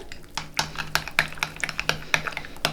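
A spoon stirs freshly grated garlic into mayonnaise in a bowl, making a run of irregular soft clicks and scrapes against the dish, close and fairly quiet, with no talking.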